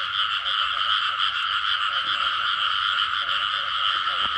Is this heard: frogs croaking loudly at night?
yes